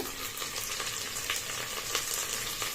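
Chopped coriander and mint frying with browned onions in a pan for white mutton pulao, a continuous close hiss and crackle with faint stirring, steady and fairly soft.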